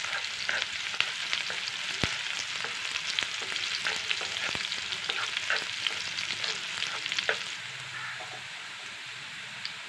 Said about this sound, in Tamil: வெங்காயத்தை போட்டு நல்லா வணக்கி விட்டுறலாம்.